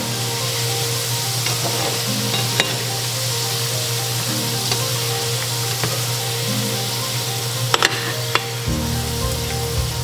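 French fries fry in hot oil with a steady, loud, close sizzle, broken by a few sharp clinks of a utensil near the end as the heat is cut.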